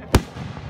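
A single sharp firework burst cracks out once at a 2018 fireworks show, a short loud bang followed by a faint trailing rumble.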